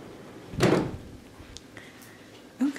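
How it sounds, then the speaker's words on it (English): A bathroom sliding door opens or closes with one loud rolling, scraping swoosh lasting under a second, followed by quieter room noise and a faint later thump. "the bathroom has a nice sliding door"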